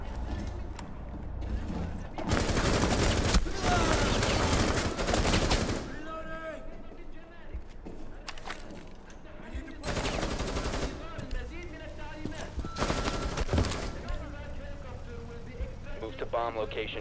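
Gunfire bursts from the tactical shooter Rainbow Six Siege, loud rapid volleys in several clusters with mechanical clatter and game ambience between them.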